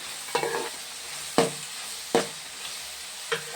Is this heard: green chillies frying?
yes